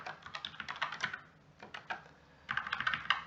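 Someone types an email address on a computer keyboard, with quick bursts of close, crisp key clicks broken by short pauses.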